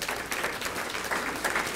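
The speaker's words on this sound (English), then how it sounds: "Give her a round of applause." A brief round of applause from an audience at a foundation executive's talk, dense clapping from many hands at a steady, moderate level.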